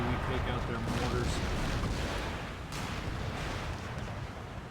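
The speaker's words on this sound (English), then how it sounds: "They're trying to bombard infantry over here" Artillery bombardment in the video game Empire Total War, Darthmod, with cannons firing on infantry: a dense, continuous rumble of booms and blasts stays loud throughout, with sharper bursts near the start and around the middle.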